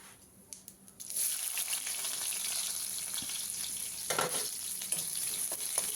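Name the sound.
onions frying in hot oil with cumin and cinnamon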